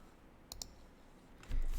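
Two quick mouse clicks while working with the dimension tool in Fusion 360 CAD software, sharp and close in a quiet room, followed by a brief low thump.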